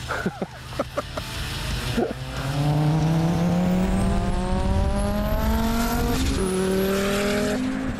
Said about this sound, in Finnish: nyt on Mika oikein kilpa-auton ratissa ja nyt lähdetään liikkuvalla lähdöllä, koska tällä autolla ei voi lähteä paikallaan